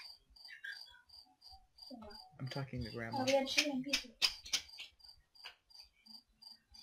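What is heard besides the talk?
crickets chirping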